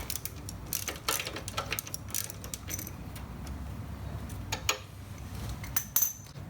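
Wrench work loosening a part on the frame of an AMF Shovelhead Lowrider motorcycle during restoration, with quiet metallic clicks, scrapes and clinks scattered over a few seconds, close and faint.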